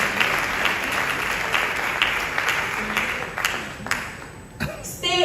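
Audience applause at a women's conference in Accra, a dense wash of clapping that holds steady throughout, thinning slightly near the end, with a voice briefly audible underneath.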